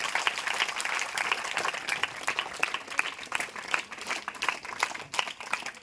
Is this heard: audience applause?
yes